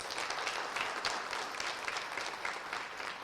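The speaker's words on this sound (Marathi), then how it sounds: "जोरदार टाळ्या वाजवा त्यांच्यासाठी" Steady applause rolls from an audience at a political rally, an even wash of many hands clapping at a moderate distance with no voices over it.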